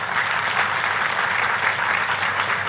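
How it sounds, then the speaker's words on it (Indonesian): A church congregation claps for their pastor in a sustained, dense round of applause at steady volume, filling the sanctuary without any voices over it. "boleh gak sih kasih tepuk tangan untuk gembala sidang saudara?"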